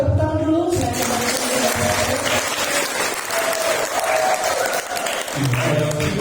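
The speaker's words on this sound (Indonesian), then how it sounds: "Kita tepuk tangan dulu." An audience at an evening church youth talk show claps together, with a dense and sustained burst of applause and faint voices and tones underneath.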